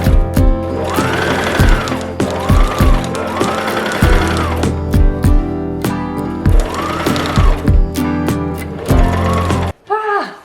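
A domestic sewing machine stitches a wool blanket vest in quick mechanical bursts, with a rhythmic clattering needle action and whirring motor rising and falling over several runs, close and loud, with a short pause near the end.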